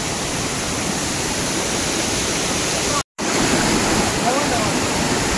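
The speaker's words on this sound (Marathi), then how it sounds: "फायनली पोचलोय बघा बाहुबली धबधब्यावर" The Bahubali waterfall in Ratnagiri, Konkan, roars as a loud, steady wash of falling water, close and continuous apart from one brief cut near the middle.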